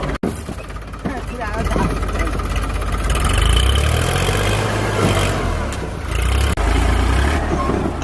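A 4x4 tractor's engine labours steadily at high load while stuck, trying to climb out, its low drone swelling and holding loud throughout, with people talking over it.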